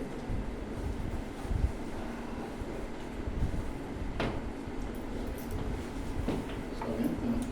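Wind buffets the microphone during an outdoor physiology practical class with ECG equipment, a steady low rumble with a few faint knocks scattered through it.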